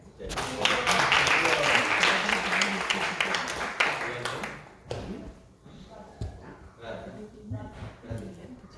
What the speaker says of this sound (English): let's give a big round of applause for Kirtan